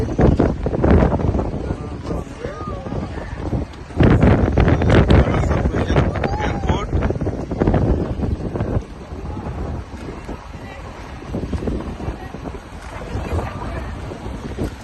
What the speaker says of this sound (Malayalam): നല്ല തണുത്ത കാറ്റാണ്